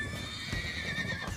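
A frightened horse neighs loudly and repeatedly while its hooves thud in a galloping rhythm, close and continuous throughout, with no voices present.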